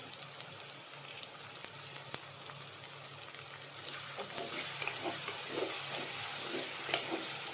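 Beef liver roast frying in a pan while being stirred, a steady close sizzle with scraping stir strokes that grow busier toward the end.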